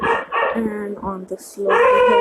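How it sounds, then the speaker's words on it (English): Dogs bark outside in the background, a few short yaps and barks intermittently audible beneath a person talking close by. "These are the dogs outside barking"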